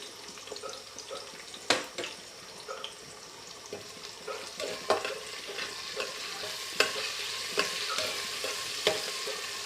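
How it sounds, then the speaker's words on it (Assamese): Garlic, onion and ginger paste frying in a pan: a soft, continuous sizzle close by, broken by repeated scraping clicks of stirring. "নহৰু পিঁয়াজৰ কেঁচা গোন্ধটো যোৱালৈকে আমি ভাজি থাকিম"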